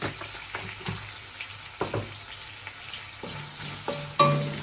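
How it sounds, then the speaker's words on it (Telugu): Sliced onions frying in a pan while being stirred until golden, heard as a soft continuous sizzle broken by repeated scraping stirs and clinks of the spoon against the pan. "ఉల్లిపాయలు గోల్డెన్ రంగులో వచ్చేవరకు ఇలా బాగా వేయడం"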